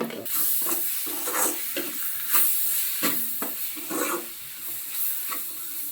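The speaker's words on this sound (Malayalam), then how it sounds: "ഇനിയിപ്പോൾ തക്കാളി ചേർക്കണം അല്ലേ നമുക്ക് ഈ തക്കാളിക്ക് അരിഞ്ഞ്" Chopped tomatoes go into a pan of browned onions, raising a loud, near sizzle that pulses with repeated stirring scrapes and bursts of hissing steam throughout.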